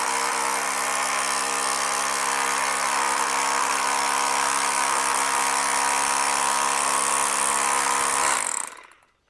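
A rotary hammer drill pounds a grounding rod against rock with a loud, continuous buzzing hammer and steady harmonic whine, close up, before winding down and stopping at the end.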